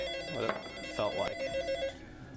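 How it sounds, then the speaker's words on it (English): A telephone ringing with repeated electronic trill bursts, moderately close, under a low background hum. "Telephone's ringing."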